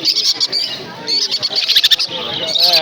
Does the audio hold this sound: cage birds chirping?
yes